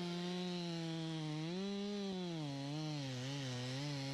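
A chainsaw cuts into a large spruce tree during a climbing removal in Voorburg, a loud, continuous close engine whine whose pitch dips and wavers as the blade bites into the wood, with no talking.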